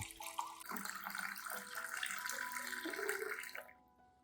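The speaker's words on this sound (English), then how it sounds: "add 500 milliliters of clean, room temperature water to dilute the solution" Room-temperature water pours steadily into a container to dilute a fertilizer solution, a continuous splashing gurgle whose pitch shifts as it fills, then stops abruptly near the end.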